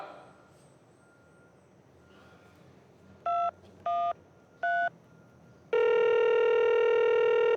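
Three short touch-tone keypresses sound on a telephone, evenly spaced, followed by a steady loud ringback or dial tone that carries to the end; no talking.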